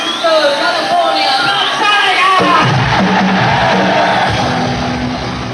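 A concert crowd cheering for a band, a loud sustained roar of shouts and whoops from a large audience, with voices yelling over it throughout.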